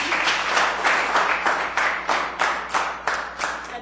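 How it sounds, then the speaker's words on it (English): A group of children clap together in a steady rhythmic pattern, about eight or nine distinct bursts of clapping in under four seconds, loud and close with no talking. "Clap for me, come on."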